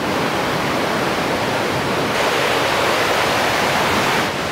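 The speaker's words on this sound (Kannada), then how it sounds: "ಎಲ್ಲ ಕಡೆಯಿಂದ ಹರ್ಕೊಂಡ್ಬರ್ತಾ ಇದೆ ಗುರು ನೀರು" Water rushes down a creek in Australia's Daintree Rainforest, a steady, loud, close broadband roar of flowing water that continues unbroken with no voices.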